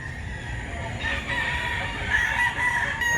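Roosters and chickens sound at a rural fowl market in Mantalungon, Barili, Cebu, with a long crow rising and falling amid clucking and steady farmyard background noise, no talk over it.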